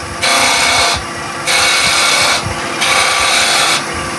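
Woodturning on a lathe, a tool cutting away waste wood to shape a small bead near a bushing; three loud, sustained bursts of broadband hissing cuts about a second each, separated by brief quieter pauses of the spinning lathe.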